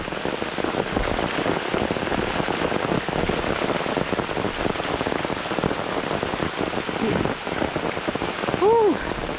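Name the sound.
heavy rain falling on a hiking trail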